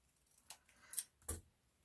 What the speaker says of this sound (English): So I'm going to cut that off.